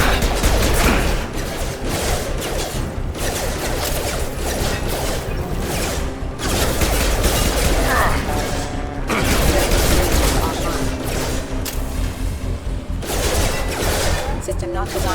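Sustained video game gunfire from Mass Effect 2, dense bursts of shots and mechanical clatter running continuously and loud through the whole stretch, with a voice speaking over the combat.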